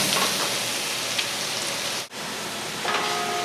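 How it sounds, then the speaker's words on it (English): Onions and apples sauté in melted butter in a pan, giving a steady, close crackling sizzle that stays even throughout, with a brief dip partway through. "So we're going to kind of let this saute for about 8 minutes or so."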